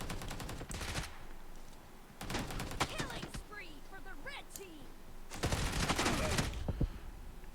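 Bursts of rapid gunfire in a mobile shooting game, BGMI or Free Fire, come in several short volleys, with quieter gaps and small effect sounds between them.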